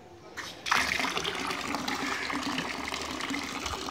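Steady rushing water pours from a Kirloskar 0.5 hp water pressure pump outlet after a brief quiet start, a continuous close gush with a splashing texture.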